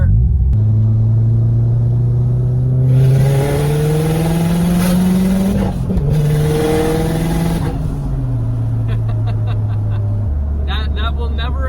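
A 2004 Subaru WRX STI engine revs hard on the move, its rising pitch climbing through gears with shifts in between. The sound is loud and close, with excited speech over it.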